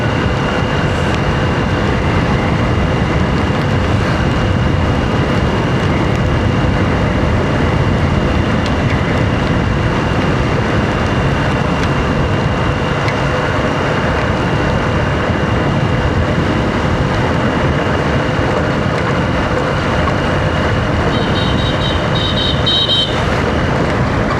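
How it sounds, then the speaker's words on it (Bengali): Heavy rain pours down around a roadside motorbike ride, a dense, loud, unbroken roar that holds steady from start to finish, with a faint high chirp briefly near the end. "বৃষ্টি পড়ছে প্রচণ্ড বৃষ্টি পড়ছে"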